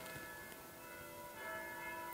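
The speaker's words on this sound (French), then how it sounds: "j'ai les cloches qui sonnent" Church bells ringing on a Sunday, a steady layered peal of overlapping tones sounding continuously at moderate distance, slightly swelling toward the end, with no talk over it.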